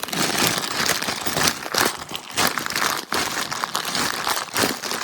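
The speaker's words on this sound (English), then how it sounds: "So cut that with the scissor" A bag of ammunition being cut open with scissors, heard as continuous close plastic crinkling and rustling with a few sharper snips and crunches over several seconds.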